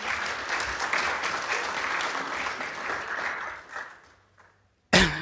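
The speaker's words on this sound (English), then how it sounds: "Let's clap for Professor Onywera." An audience at a university innovation week and industry summit claps for a professor invited on stage, with steady, fairly dense clapping that thins out and stops around four seconds, followed by a brief loud burst of sound at the end.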